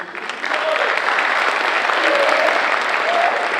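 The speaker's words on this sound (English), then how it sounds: "a round of applause for you" An audience claps in a sustained round of applause at a community people's choice awards event, dense and steady throughout with some cheering mixed in.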